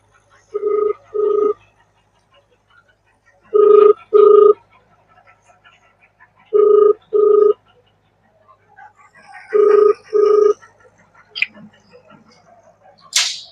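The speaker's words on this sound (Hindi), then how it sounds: "रुका यार फोनवा लगाई रुका दीदी के लगाता हूँ" A phone rings while a call is placed to a sister, giving four evenly spaced double rings a few seconds apart, clear and close, with faint sounds in the gaps.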